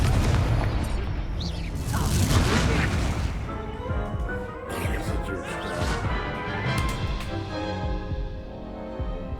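Confringo spell blasts in Hogwarts Legacy: a run of booming explosions and crashing impacts, loud and near, mixed with battle noise and brief voices.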